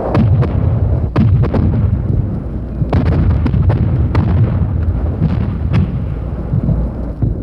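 Heavy booms and blasts from enemy mortars pound a frontline airfield during the Vietnam War, with dense, rumbling explosions following one another rapidly and loudly throughout, sharp impacts rising over a continuous low roar.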